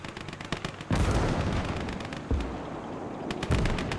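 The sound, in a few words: machine gun fire in the video game Call to Arms: Gates of Hell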